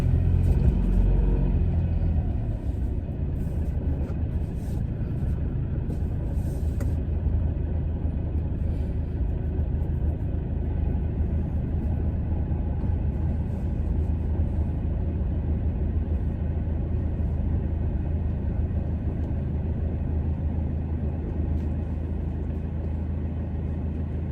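Steady low car engine rumble and road noise from inside a moving car on a real road, continuous and fairly loud throughout with no talking.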